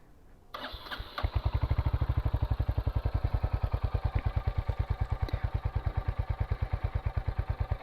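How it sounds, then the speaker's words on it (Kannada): A motorcycle fires up after a brief crank, then settles into a loud, steady thumping idle through its silencer, each exhaust pulse sharp and evenly spaced, close by with no talking. "ಸ್ಟಾರ್ಟ್ ಆದಾಗ ಯಾವ ಥರ ಇರುತ್ತೆ ಅದರದ್ದು ಸೈಲೆನ್ಸರ್ ಸೌಂಡು ಸಿಕ್ಕಾಪಟ್ಟೆ ಇಷ್ಟ ನನಗೆ"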